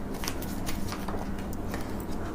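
Tarot cards are shuffled in a continuous close-up riffle of soft papery flicks and rustles, steady and moderately loud for the whole stretch.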